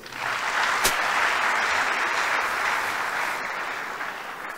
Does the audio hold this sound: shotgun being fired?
no